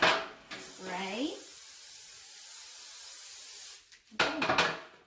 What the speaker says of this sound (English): I'm going to spray down each pan with our can of spray.